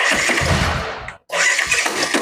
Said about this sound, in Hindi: जब भी मैं इसको सेल्फ से स्टार्ट कर रहा हूँ इस गाड़ी को, तो इसमें से कुछ हड़ा खड़ा कुछ लड़ने की साउंड आ रहा है इंजन से